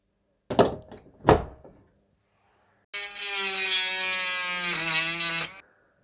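Two sharp knocks, then a Dremel Stylo rotary tool whines steadily for a couple of seconds drilling a hole in burl wood with a 2.8mm bit before cutting off; close and loud.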